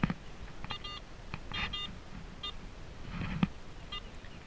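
A metal detector sweeping a field gives several short, clipped high-pitched beeps at irregular intervals, fairly faint against a quiet outdoor background.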